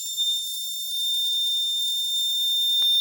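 A tree cutting sensor system's forest security alarm sounds as a steady, piercing electronic tone like a smoke detector, continuous and alone for the whole stretch, with a brief click near the end.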